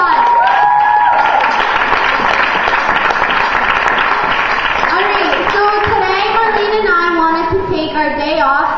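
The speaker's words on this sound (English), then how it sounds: "Give yourselves a huge round of applause" Audience of young performers and spectators applauding after a youth play, loud sustained clapping and cheering with excited children's voices and shouts rising over it.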